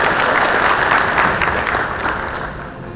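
An audience at a formal award ceremony for drug-prevention honours gives a loud, dense round of applause that holds strong, then gradually tapers off toward the end.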